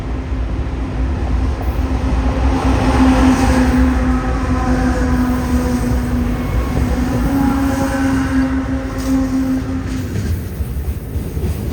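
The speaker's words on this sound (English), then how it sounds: "I think that's the train." A train rumbles steadily past near Mossbrae Falls, a continuous loud roar of wheels and rail noise with a sustained horn-like drone running through it, close by and filling the whole stretch without talk.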